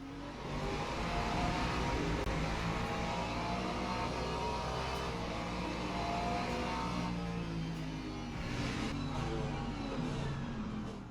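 A Ferrari race car in the Le Mans Ultimate endurance racing game drones steadily under continuous engine noise with faint shifts in pitch, no talk over it.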